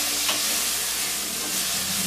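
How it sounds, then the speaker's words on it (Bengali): A spice mix of ginger paste, salt and spices stirred and fried in a pan for a pui shaak and sweet pumpkin curry, giving a steady close sizzle and hiss with soft scraping throughout, no voices. "দিয়ে মশলাটা একটু নেড়ে চেড়ে নিচ্ছি।"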